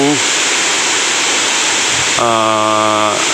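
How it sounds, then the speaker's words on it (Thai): Khun Korn, a tall single-tier waterfall some fifty to seventy metres high in a Chiang Rai forest, roars as a steady, loud broadband rush while someone talks over it at the start and again near the end. "เป็นน้ำตกสูงเหมือนกันนะครับ"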